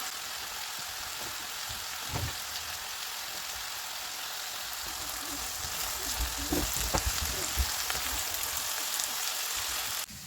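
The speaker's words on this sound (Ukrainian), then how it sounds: "Обсмажую овочі." Vegetables sizzle and crackle steadily in a hot pan, with occasional stirring clatters, close and continuous without speech.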